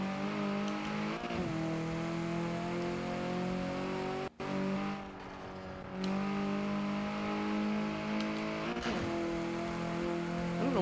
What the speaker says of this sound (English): I don't know why this car is grinding its gears